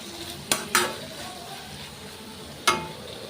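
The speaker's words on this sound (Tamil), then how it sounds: "இதையும் நல்லா மிக்ஸ் பண்ணி விட்டுறலாம்." A spoon scrapes and clanks against a frying pan while masala spices, cumin powder, pepper and fennel are stirred, three sharp metallic knocks over a soft, low sizzle, close and quiet.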